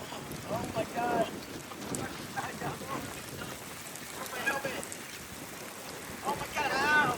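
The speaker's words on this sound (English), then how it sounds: "Starting to get a little bit of pea-sized hail." A storm with rain and pea-sized hail coming down outdoors, a steady windy patter and rush with scattered sharp hits, and a person's voice in places.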